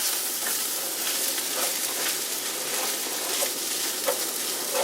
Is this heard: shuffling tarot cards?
no